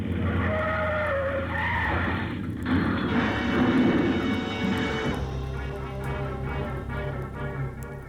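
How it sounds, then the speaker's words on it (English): Radio drama effect of a plane ploughing into a car: a steady engine drone gives way to scraping, skidding crunches, then the engine keeps droning and winds down, loud and continuous with no voices. "The plane sort of stumbled over the car, rolled up on its nose, and stayed there."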